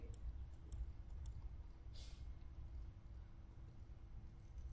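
A computer mouse clicks several times at close range, quiet light taps in a short series over a low background hum.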